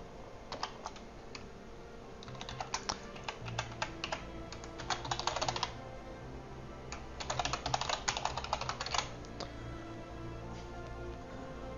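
Steady typing on a computer keyboard while writing Flutter/Dart code, with bursts of quick clicking keystrokes that start and pause over a low room hum, no talking.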